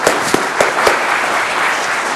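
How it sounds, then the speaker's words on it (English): An audience applauds a stage volunteer: a dense, steady wash of clapping from a crowd, with a few sharper individual claps popping out near the start and continuing evenly throughout. "give our volunteer a big round of applause"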